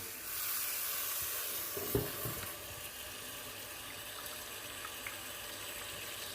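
Water run through a faulty combi boiler hot-water heat exchanger, a continuous hissing rush of flowing water with a brief gurgling burst early on, steady and fairly close.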